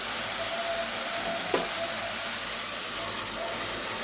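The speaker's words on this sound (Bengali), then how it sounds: "এই রাজমাটা আমি এর মধ্যে ঢেলে দিয়ে আর একটু কষিয়ে নেবো ভালো করে" Boiled rajma (kidney beans) tipped into hot oil in a pan, giving a steady soft sizzle throughout with a brief clunk partway through.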